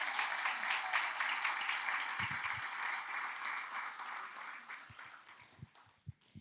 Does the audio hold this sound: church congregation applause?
yes